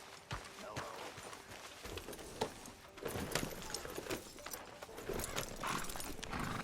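Horse hooves clip-clop steadily in Red Dead Redemption 2 as riders set out toward a beach fishing spot, a quick rhythmic patter near and moderately loud, with occasional voices and game ambience around it.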